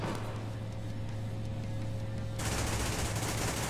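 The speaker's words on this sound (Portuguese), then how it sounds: "tô te tomando um tiro" Rapid bursts of gunfire in the video game APB crackle continuously, growing louder and denser partway through, with a low steady hum beneath and no one talking.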